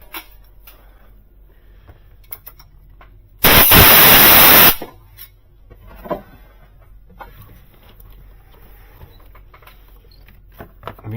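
Compressed air blows off the spark plug area of a 2006 GMC Sierra 2500 with a 6.0 engine, a single loud hissing burst of about a second amid quiet clicks.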